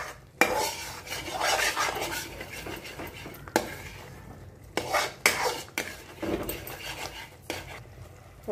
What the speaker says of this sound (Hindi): तो मैं इसको अच्छे से चलाती रहूंगी, जिससे ये कि चिपके ना नीचे तली पे।